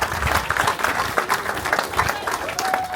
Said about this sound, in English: he deserves a massive round of applause too